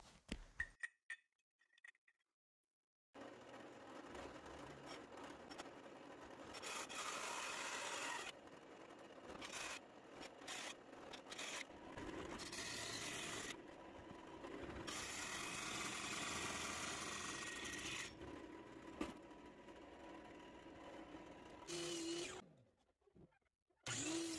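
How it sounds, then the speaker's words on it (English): Hole saw bits cutting corners out of a 2x4 board, with a steady grinding, whirring cut in long sustained runs broken by short pauses between passes, close and fairly loud with no talking. "I'm going to use a couple of hole saw bits to cut out these corners"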